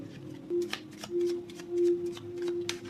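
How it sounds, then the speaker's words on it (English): Tarot cards are shuffled in several quick riffling bursts, close up, with a faint steady hum underneath. "3 shuffles for Virgos who have chosen deck"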